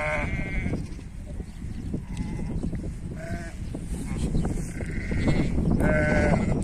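Sheep and lambs bleat repeatedly in a farm setting, several short, wavering calls of varying pitch scattered over a rustling, busy background of animal movement.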